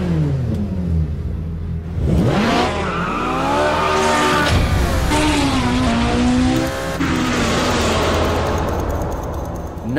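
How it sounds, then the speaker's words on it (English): A Ferrari 458's naturally aspirated flat-plane-crank V8 revs hard, climbing and falling through sweeping pitch changes with a brief tire squeal, loud and close with no talking. "the engine in the 458 was peak for what Ferrari did in the world of naturally aspirated V8s"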